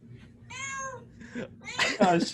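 Kittens in a televised kitten bowl meow in a quick run of high, close calls, the last few louder and overlapping.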